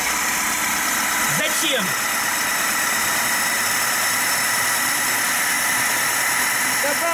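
A car engine with overly advanced ignition timing runs loud and close with a steady rumbling idle and faint knocking vibration while someone briefly speaks over it.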